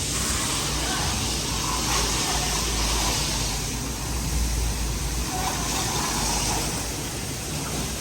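Constant hissing spray of water gushing over a car being washed, steady and close, with a low engine-like rumble underneath and no pause.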